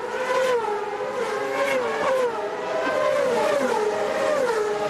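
An IndyCar race car engine screams at high revs, its pitch climbing and dropping through gear changes as it holds a loud, continuous wail close by, with no voices over it.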